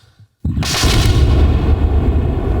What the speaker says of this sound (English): I'd like to hear a cannon.